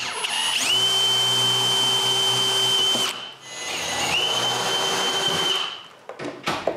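A power drill boring holes into a wooden board runs with a loud, steady whine for about three seconds, dips briefly, then spins again before stopping, followed by a few close clatters.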